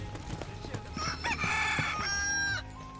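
Chickens cluck and a rooster crows in Final Fantasy VII Rebirth while a feed clanger lures the missing birds, with busy game sounds underneath.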